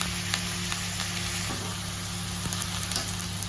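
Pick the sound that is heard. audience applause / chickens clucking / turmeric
turmeric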